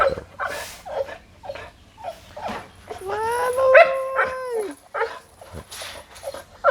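A pit bull whines in a long, rising and falling cry, with short sharp barks and yips scattered around it, close and fairly loud.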